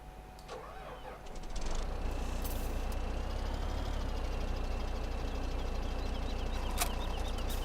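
A tractor engine in Farming Simulator 17 starts up. After a few light clicks, a deep diesel rumble kicks in and settles into a steady loud idle hum, with faint chirps and tones above it.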